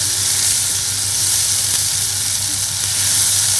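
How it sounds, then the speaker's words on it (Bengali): Salt, turmeric and ground spice paste frying for a cabbage daalna, a loud, dense, continuous close sizzle with steady hissing throughout. "নুন হলুদ মশলাটাকে এবার একটু কষিয়ে নেব।"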